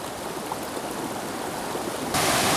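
Mountain stream tumbling over a waterfall in a remote Japanese headwater gorge, a steady broadband rush of water, close and fairly loud, swelling brighter near the end, with no voices.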